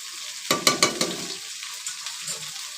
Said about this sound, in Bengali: হালকা গরম করার সঙ্গে সঙ্গে আম দিয়ে একটু নেড়ে নেবেন।